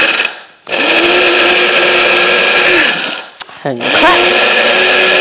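An electric grinder powders dried ginger with a steady high whine in two runs split by a short pause. A voice speaks briefly over the motor.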